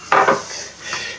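A spoon scrapes and knocks against a bowl while stirring honey gingerbread batter, a couple of quick close clatters followed by softer rubbing, with no talking.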